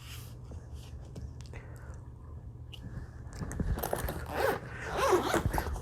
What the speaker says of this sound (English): We have the first zipper